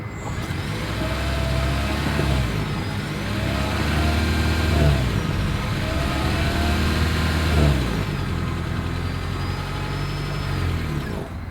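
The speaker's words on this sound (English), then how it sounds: "Here is that exhaust clip." Exhaust note of a 2022 Toyota Prius AWD hybrid, a steady engine hum that rises and falls with gentle revving, loud and close with no talking.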